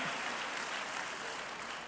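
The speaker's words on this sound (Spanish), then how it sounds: "Dele un aplauso a Jesús y prepárese para sembrar en esta noche" Brief wash of applause from a congregation clapping for Jesus during an evening church service offering, steady and moderately distant, lasting under two seconds.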